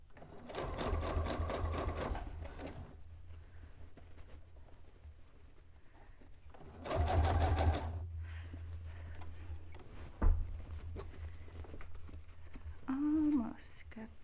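A sewing machine stitches fabric for a cone-shaped cape or dress in two rapid, rhythmic bursts close by, separated by quieter handling, with soft whispered speech in between.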